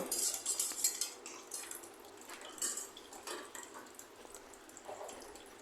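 Metal pot clatter while greens (Malabar spinach) and pumpkin simmer: light clinks and scrapes of a lid and utensils, with a faint watery bubbling, close by and quiet, no talk.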